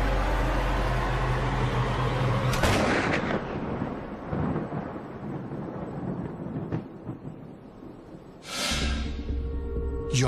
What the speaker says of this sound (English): Personnel clear the firing range, and Michael Yardley takes Lee Harvey Oswald's shot